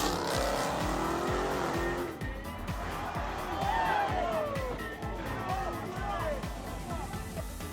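A Ford Mustang speeds past with tyres squealing in sharp, rising screeches over loud engine roar and road noise, with a voice talking over it.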